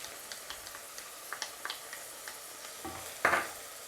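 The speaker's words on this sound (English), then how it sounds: "give this a stir" Browning food with onion stirred in a pot, with soft periodic scrapes and taps of a spoon over a quiet sizzle, ending in a louder clattering stroke.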